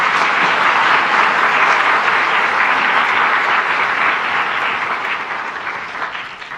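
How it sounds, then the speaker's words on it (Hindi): Audience applause at a public event honouring a young chess player: steady, loud, dense clapping from a large crowd that continues throughout and tapers slightly at the end. "उनके लिए तो थोड़ा तालियां बजाएं।"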